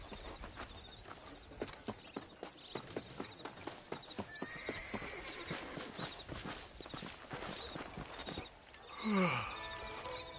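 Steady clip-clop of a horse's hooves trotting in the video game Red Dead Redemption, then slowing, ending with a loud snorting whinny up close; no talking.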